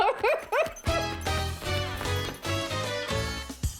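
A dog yips and whimpers in a few quick high bursts at the start, then a steady backing of music with plucked and tonal notes carries on underneath.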